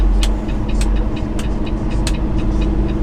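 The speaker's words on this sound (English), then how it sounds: "Tell you what, that Jake brake is strong, isn't it?" A heavy truck's Jake brake (engine brake) working on a steep hill descent gives a steady, loud, droning engine rumble throughout, heard from inside the cab with faint periodic clicks above it and no speech.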